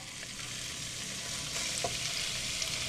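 Pork bites sizzling and frying in a pan for garlic butter pork, a steady, fairly quiet crackling hiss with small pops, with no voices.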